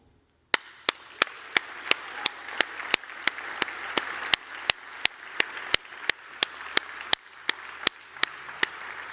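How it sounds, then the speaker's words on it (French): Applause from an audience at a corporate cloud-computing presentation: a steady, evenly paced run of sharp, loud claps over a continuous wash of softer clapping, lasting several seconds with no talk. "Je ne sais pas pourquoi vous avez applaudi."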